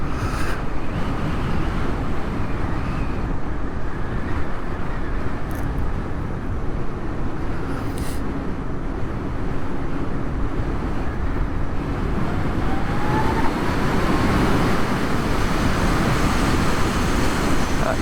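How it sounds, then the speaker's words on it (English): Loud, steady wind roar buffeting a rider on a Harley-Davidson LiveWire electric motorcycle at speed, a broad continuous rush with no engine note beneath it, constant throughout. "it is incredible how loud the wind is when you haven't got an engine competing with it."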